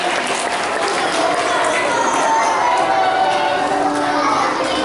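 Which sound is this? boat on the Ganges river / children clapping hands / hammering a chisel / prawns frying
children clapping hands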